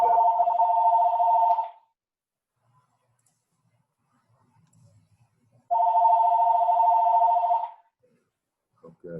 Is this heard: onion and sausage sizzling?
no